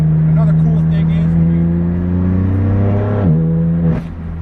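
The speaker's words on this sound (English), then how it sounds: "the DCT gearbox really enhances the sound of this car" Straight-piped BMW M4 F82 with a DCT gearbox, loud close exhaust drone rising in pitch under throttle, a quick crackling shift, then a higher rev that cuts off as the gas is released.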